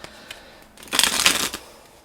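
A deck of badly bent tarot cards is shuffled by hand in one short riffle burst, close and fairly quiet, with a few light card taps before it and no talking.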